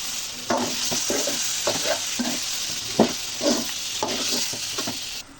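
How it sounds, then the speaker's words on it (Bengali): Snakehead fish hits a pan of fried spices and is stirred, giving a loud sizzle with repeated rhythmic scraping strokes of a spoon close by. "মশলাটা কষানো হয়ে গেছে, মাছটা দিয়ে দিব।"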